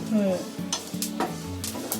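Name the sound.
dry-roasting grated coconut in pan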